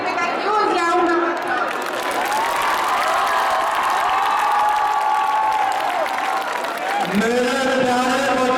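An audience at a dance performance applauds and cheers, a steady wash of clapping with shouts and voices rising over it, continuous and fairly loud, with a speaker's voice heard over the crowd near the start and end.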